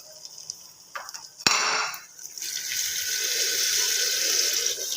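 Water poured into a pot of fried mutton and lentils for a stew: after a clank, a steady close gush of liquid splashing in and filling the pot, continuing to the end.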